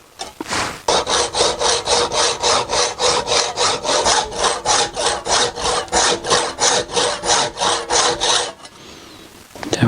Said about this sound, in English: Get my hacksaw